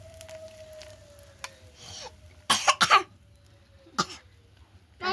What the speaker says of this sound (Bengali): কাশি হচ্ছে ধোয়ায়, তোমার কাশি হচ্ছে?